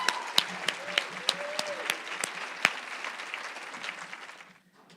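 Audience applause welcoming Dr. Jamie Orr as keynote speaker at the 2017 WFED event, steady clapping from a full room with a few sharp nearby claps standing out, fading away near the end.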